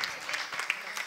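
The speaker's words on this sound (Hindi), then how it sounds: "इस मंच के प्रति एक बार तालियों के साथ अभिनंदन अभिवादन।" Audience applause at a poetry book launch ceremony in India, a short spell of moderate, scattered clapping with a few sharper individual claps.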